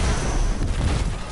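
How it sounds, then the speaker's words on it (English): Rapid chained explosions in the video game Destiny, dense booming blasts layered over one another in a short loud burst with crackling debris. "Secondary explosions will wipe them out."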